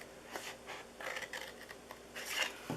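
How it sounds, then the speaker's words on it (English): Scissors snipping through card stock for a Halloween and Christmas treat box, several quiet, close, rasping cuts in quick succession without talk. "I cut in between each of those trees."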